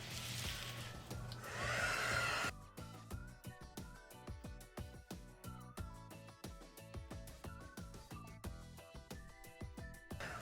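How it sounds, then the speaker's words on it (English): A small handheld heat blower runs with a steady loud whoosh for about two seconds while drying paint on a glass vase set on a turntable, then cuts off and rhythmic background music continues. "now I'm going to use my heat blower to dry it"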